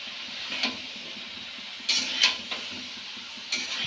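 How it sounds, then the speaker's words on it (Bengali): Chopped ridge gourd and potato stirred in a pan of spiced oil, a soft, low frying hiss broken by a few scattered scrapes and taps of a spatula against the pan. "এরপরে ঝিঙে আলু আলাদা আলাদা চুরবিতে কুচে রাখলাম, সেইগুলো আমরা ঢেলে দেব এবং এটাকে নাড়তে থাকবো"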